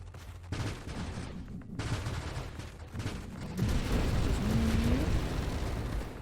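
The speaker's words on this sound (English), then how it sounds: "Oh, that explosion kind of hurt." Explosion in the Nova Drift video game: a burst of crackling, rumbling blasts that swells into a dense, sustained roar during the second half, loud and busy, with no talk.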